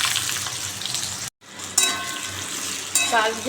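Potatoes and a little ginger hit hot oil in a pan, giving a steady sizzle with a brief break, then louder frying and stirring sounds.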